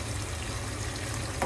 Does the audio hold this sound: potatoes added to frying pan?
yes